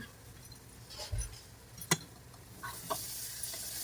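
Bitter gourd and tomato curry being stirred in a pan, with a quiet sizzle throughout and a few light scrapes and spoon clinks against the pan, close and fairly soft.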